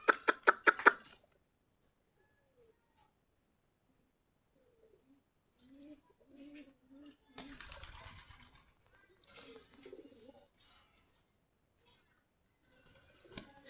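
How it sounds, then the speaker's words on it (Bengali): Desi Giribaz pigeons feeding in a loft, with a quick burst of wing flaps at the start, then soft low coos and rustling, and a louder flurry of flapping midway. "আমাদের কবুতরগুলা খাবার খাচ্ছে এখন"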